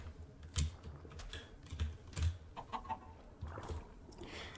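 Chickens cluck intermittently in the video game Minecraft, soft short calls mixed with rapid keyboard typing taps at low volume.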